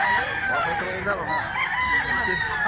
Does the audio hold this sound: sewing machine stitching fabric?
no